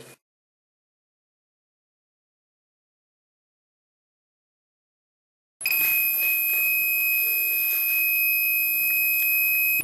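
A homemade fire alarm's small buzzer sounds when heated, a loud, steady, shrill electronic tone that starts abruptly after a long silence and holds unbroken to the end.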